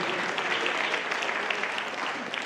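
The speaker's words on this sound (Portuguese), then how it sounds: "Vamos dar uma salva de palmas para o nosso Senhor Jesus Cristo." Sustained applause from a church congregation, a dense, steady clapping that fills the whole moment without voices.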